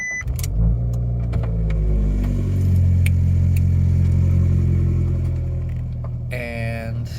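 A 2015 Fiat Abarth with an active check-engine light and multiple fault codes starts up and runs close at a steady idle that swells slightly mid-way, with a few clicks and a brief rattle near the end.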